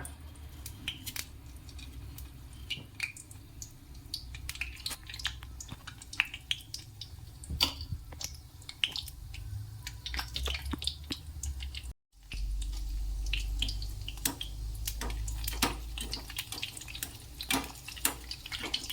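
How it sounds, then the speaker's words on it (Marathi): Gulab jamun frying in hot oil give a continuous soft sizzle with scattered crackles and pops, steady and fairly faint, briefly cut by a gap before the bubbling resumes. "आता इथे तेल आपलं चांगलं तापलेलं आहे तर आपण दहा दहा गुलाबजाम तळून घेऊया"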